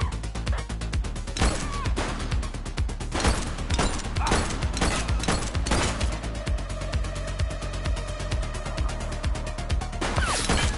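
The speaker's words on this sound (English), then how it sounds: "She's shooting!" Sustained gunfire rattles through a police shootout in The Precinct, with rapid bursts of shots, sharp cracks and impacts layered densely and loudly for the whole stretch.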